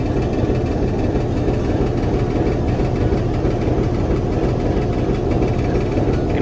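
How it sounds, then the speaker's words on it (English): Steady low rumble of the 1947-built Alco 5 diesel locomotive engine, heard from inside the cab on the D&H Adirondack Branch, a constant heavy drone with no speech. "Feel it in the floor. That classic Alco engine."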